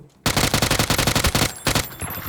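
Rapid automatic gunfire from the video game PUBG, loud bursts of closely spaced shots that stop briefly and then resume, with no talk.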